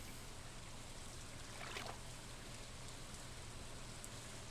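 Steady, soft rain falls in the video game Stardew Valley, a faint, even hiss with no talking over it.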